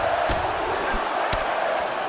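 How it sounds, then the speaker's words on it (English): A crowd in the EA Sports UFC 2 fighting game cheers and roars in a steady, continuous wash throughout, with a couple of sharp impact-like thumps standing out over the noise. "Oh, you can hear the support from the crowd for Fabricio Verdun."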